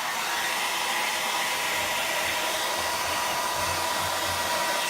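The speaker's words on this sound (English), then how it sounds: "I use a handy hair dryer" A handheld hair dryer blows steadily and loudly at close range while drying chalk paint on an antique frame, a constant broadband whoosh with no talking.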